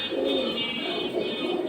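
Low soft cooing of pigeons at a pigeon market, a steady close murmur of overlapping coos over a faint background hum.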